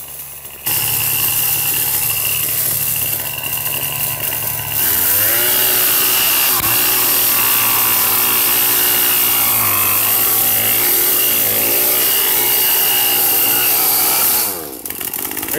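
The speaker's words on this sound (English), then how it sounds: "let me show you the before and after of attacking that bed with the Troy-Bilt tiller" A Troy-Bilt TB225 tiller's small petrol engine runs loud and close, with its pitch bogging and rising as the tines churn through an ant bed in a backyard, before cutting back near the end; no talk.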